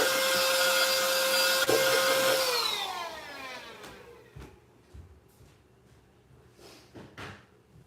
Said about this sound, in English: I need to use the vac.